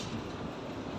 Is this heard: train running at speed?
yes